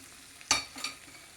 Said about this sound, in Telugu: చూడండి, తాలింపు వేగింది. ఇప్పుడు వేసేస్తున్నానండి.